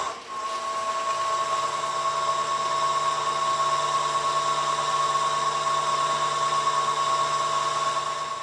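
Power tool polishing a cork coffee tumbler with plastic polish, giving a steady high-pitched whine that holds at constant loudness throughout without pauses or speech.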